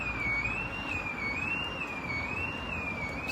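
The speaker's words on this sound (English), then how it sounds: "I feel like the alarm's going off" A wavering electronic alarm tone sweeps up and down steadily and loudly for the whole stretch, sounding over a dense, constant background roar with no break.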